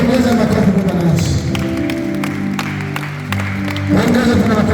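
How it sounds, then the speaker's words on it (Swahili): A church congregation at a thanksgiving night vigil claps continuously as a dense wash of applause, mixed with sustained voices or music and a speaker's voice. "Ongeza makofi kwa Bwana Yesu."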